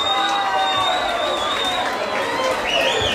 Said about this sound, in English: Please give it up in the blue corner for Bobby Harrington.